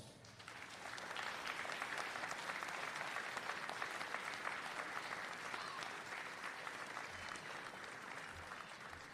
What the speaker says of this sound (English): Face the crowd and give them a powerful round of applause.